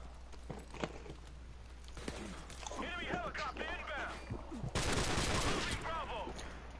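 Call of Duty gunfire including an M249 SAW, rapid crackling shots and bursts throughout with a loud dense volley near the end, while someone talks over the action.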